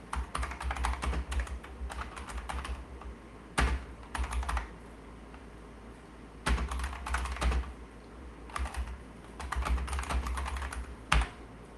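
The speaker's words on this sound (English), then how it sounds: "So I need to concentrate and type here." Close clattering keystrokes on a computer keyboard, typed in quick bursts separated by short pauses, with occasional louder key strikes and no talking.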